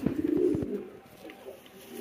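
A newly acquired pigeon calls with a few low, throaty coos close by, the bursts clustered at the start and fading into quieter murmurs.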